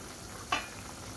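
Fish dropped into a hot pan for frying, a single short sizzle burst rising from a quiet background and fading quickly.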